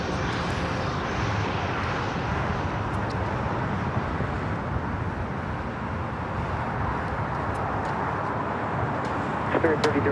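Asiana Airlines Airbus A380 at LAX, a continuous broadband jet engine rumble holding steady and fairly loud from start to finish, with a voice talking over it.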